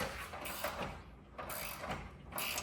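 A part on a truck's core support is tightened, producing quiet mechanical ratcheting clicks in short bursts separated by brief pauses, close by with no speech.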